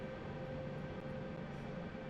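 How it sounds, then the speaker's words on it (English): Turbine engine of an AH-64 Apache attack helicopter starting up in the DCS flight simulator, a loud, steady whine and rumble with a sustained high tonal note, continuous and close with no talk. "There's the one engine."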